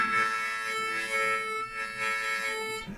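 Harmonica notes played one at a time in the manner of a complete beginner practising single notes, steady and sustained, with a slight wavering between a couple of pitches and no talking.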